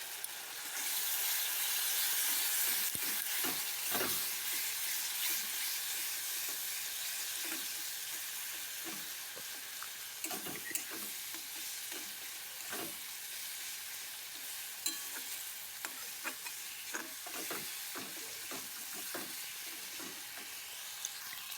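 Spice masala with turmeric and chili powder stir-fries in a little oil, a soft continuous sizzle and hiss with intermittent spatula scrapes and taps against the pan, close and without speech.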